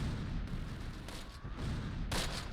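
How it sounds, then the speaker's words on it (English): An artillery salvo in the WWII video game Close Combat, set near Barenton in 1944: a few muffled, fairly distant booms over a steady low rumble, no voices. "I'll let that salvo finish just because they didn't have many left and there was still infantry there"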